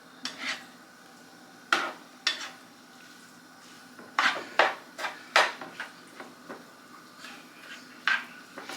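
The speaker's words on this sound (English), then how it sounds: "So I'm going to mix this in so it'll get down in there." Chili mixture in a pot being stirred, with irregular clanks and scrapes of a spoon against the pot, coming in bursts with quiet gaps between and a low sizzle underneath.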